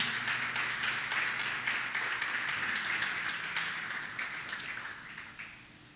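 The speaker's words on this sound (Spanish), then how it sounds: "¿Cuántos le dan un fuerte aplauso a mi Señor?" Church congregation applauding during a Spanish-language sermon, a brisk crowd of hand claps at moderate distance that gradually thins and fades toward the end.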